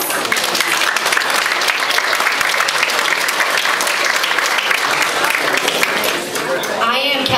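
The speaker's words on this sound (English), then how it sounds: "Give yourselves a round of applause." Graduates at a Northwood University class ring ceremony in Florida clap together in loud, dense, sustained applause that fills the whole stretch, with a brief dip near the end.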